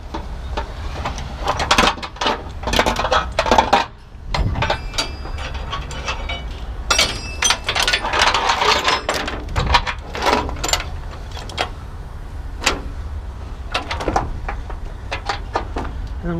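A pickup truck is unstrapped on a car hauler deck, with irregular metallic clanks, ratchet clicks and rattling of straps and chains, close and busy throughout.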